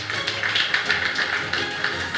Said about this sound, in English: Another beautiful round of applause, ladies and gentlemen.